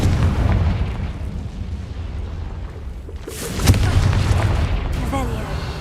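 Confringo spell explosion in the video game Hogwarts Legacy, a loud booming blast with a sharp crack after a low rumbling stretch, followed by lingering roar and faint tonal game effects.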